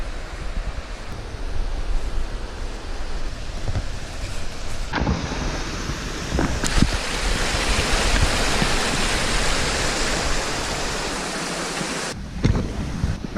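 A New Zealand river rushing over rocks at dawn, a loud, broad, steady roar of flowing water close by, with a few brief thumps and a short dip near the end.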